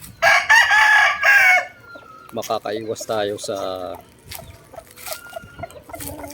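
A rooster crows loudly near the start, followed by hens clucking and chattering in short bursts at close range.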